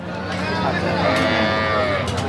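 Large dairy cow at a cattle sale, a high-yielding milker, lets out one long, loud, close moo that fills the short moment.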